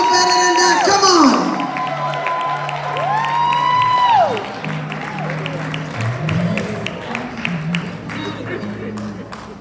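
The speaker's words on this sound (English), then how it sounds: "Y'all give Dwayne a rousing round of applause." An audience at a church music and fine arts conference bursts into sustained applause, cheering and whoops, a dense, loud crowd roar that mixes with an amplified voice and a held musical tone.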